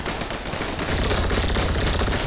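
Rapid automatic gunfire in the game GTA 5 during a bank robbery, a dense loud fusillade of overlapping shots that grows heavier partway through.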